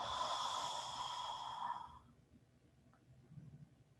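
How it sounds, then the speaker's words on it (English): A breath is let out through an open mouth during a calming yoga flow, a soft airy exhale lasting about two seconds and then fading into near silence. "Take a full breath in. Open your mouth out. Exhale."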